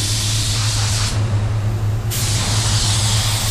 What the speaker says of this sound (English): put into the engineering of the spray guns so that it could spray a certain way